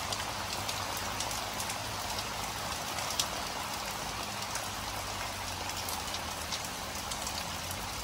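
Steady morning monsoon rain falls on surfaces at a nature getaway, a dense continuous hiss with scattered droplet ticks, even and fairly loud throughout.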